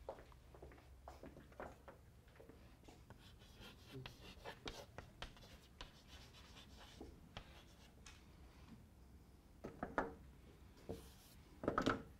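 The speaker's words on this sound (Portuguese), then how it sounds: "eu vou até escrever" Marker or chalk strokes on a board during an economics methodology lecture, a run of soft scratchy scribbles with irregular rhythm and a few louder taps near the end, close and moderately quiet with faint room noise.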